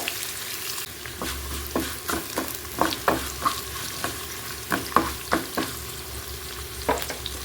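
Garlic sizzles steadily in hot oil in a pan for a spicy side curry, while a spoon scrapes and stirs in a run of close, irregular clacks and scrapes. No voices are heard.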